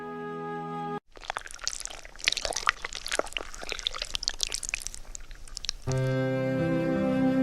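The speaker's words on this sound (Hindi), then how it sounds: "चलो, मैं जल्दी से पानी भर लेता हूँ।" Water is filled from a river in an animated Hindi story, a few seconds of close splashing, gurgling and trickling set between stretches of music.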